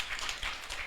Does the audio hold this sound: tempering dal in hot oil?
no